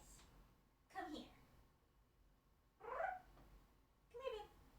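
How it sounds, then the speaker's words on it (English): A pet cat meowing three times, drawn-out calls spaced roughly two seconds apart, close and quiet in an otherwise still room. "Oh, meowy kitty."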